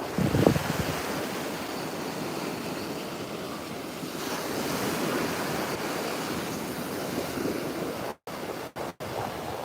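Ocean waves wash steadily onto a Sanibel Island beach at sunset, a continuous broad surf roar with wind buffeting the microphone, briefly cutting out near the end.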